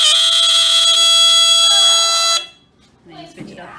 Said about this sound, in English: we're testing the alarm